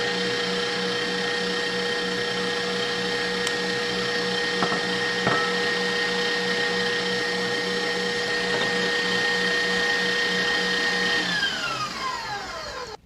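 Electric mixer whipping sponge cake batter for a strawberry roulade, a steady, loud motor whir holding for over ten seconds before winding down at the end.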